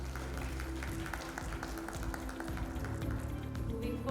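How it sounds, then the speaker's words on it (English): Applause from a conference audience at an education conclave, a steady crowd clapping heard at a distance with a low hum underneath. "Please give a big round of applause."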